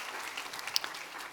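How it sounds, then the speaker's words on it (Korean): A church congregation claps in encouragement during a Sunday morning service: a soft, distant patter of applause that stays even and light throughout. "우리 격려와 응원의 박수 한번 해주시면 좋겠습니다."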